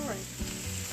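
Turkey tenderloin on a grill gives a brief, dense sizzle with low tonal hum underneath, close and fairly loud, no talking.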